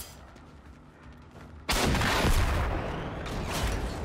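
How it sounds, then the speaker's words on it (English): In the video game Generation Zero, after a quiet stretch, a sudden loud blast erupts and gives way to a sustained roaring rumble of explosions and gunfire. "Explosions, man."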